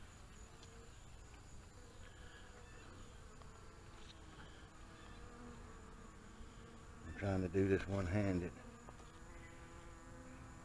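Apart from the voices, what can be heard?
swarm of bees buzzing in a top bar hive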